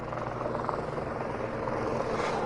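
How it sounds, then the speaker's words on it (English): A helicopter flies close by, its rotor and engine making a steady, loud, continuous whirring drone with a low thumping throb that holds the whole time without any talking. "I lied. That's our helicopter."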